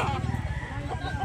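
Fighting cock at a market in Carbon, Cebu, crowing loudly and close for a brief moment, with clucking and background chatter from the surrounding crowd.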